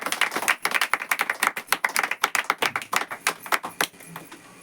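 A church congregation claps loudly in a fast, steady rhythm of sharp, close-up claps through a Hindi-language worship service, with no talking over it.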